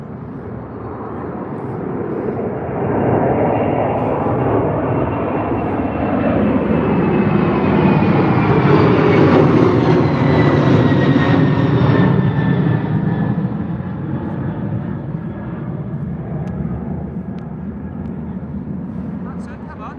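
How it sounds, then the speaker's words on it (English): A United Airlines Boeing 767 departs Heathrow bound for New York, its jet engines building into a loud, steady roar that swells past the middle and then slowly fades as it climbs away. "Off to New York there. United Airlines 767."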